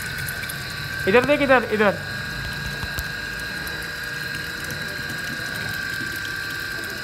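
Water rushes steadily into a container, a constant hissing flow that runs the whole time, while a voice calls out briefly near the start.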